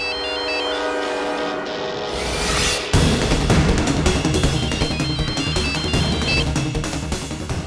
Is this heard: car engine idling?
no